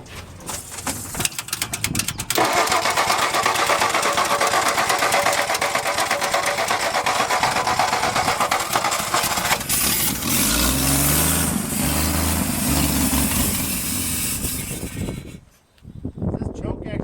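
A 1962 Ford F-350 farm truck engine cranks and then runs loud and steady, its rough drone filling most of the stretch before cutting off near the end, with voices talking over it.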